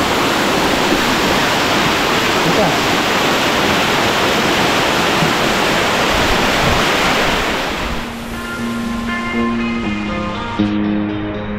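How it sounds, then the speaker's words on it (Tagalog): Water from a waterfall on a trek in Catanduanes pours in a loud, steady, broadband rush that fills the scene, then drops back as a brief tonal melody enters near the end. "meron siyang falls na dito nanggagaling yung tubig"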